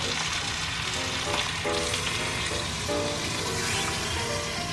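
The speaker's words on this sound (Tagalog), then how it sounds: "And then we pour this coconut milk into the pot" Coconut milk poured into a hot pot, giving a steady loud sizzling hiss with bubbling and liquid splashing throughout, no voices.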